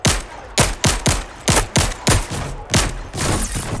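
Shotgun fire from an enemy in a video game: about ten sharp, loud blasts in an uneven rapid sequence, each with a short decaying tail, and no talk.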